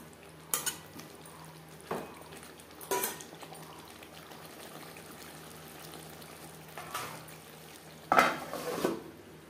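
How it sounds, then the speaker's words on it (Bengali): Potatoes are tossed with salt and turmeric in a pan, a soft background simmer punctuated by a few distinct scrapes and clanks of a spoon against the metal, spaced several seconds apart, with no speech. "লবণ হলুদ আলুর সাথে বেশ ভালো করে মিক্সড করে দেব।"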